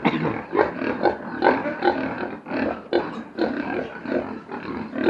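A litter of ten piglets on a farm squeal and grunt continuously at close range, with overlapping cries rising and falling.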